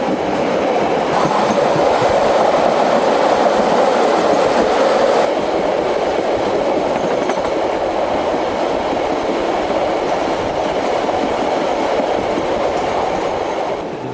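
Coal train hauled by two diesel locomotives with 24 wagons running on rails through a New Zealand valley near the Otira Tunnel, a loud steady rumble with clickety-clack of wheels passing close by, no talking.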